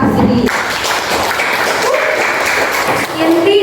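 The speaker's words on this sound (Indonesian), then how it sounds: "Kasih tepuk tangan dulu buat sini." A school class applauds during a history lesson, a brief burst of steady clapping with voices talking across it.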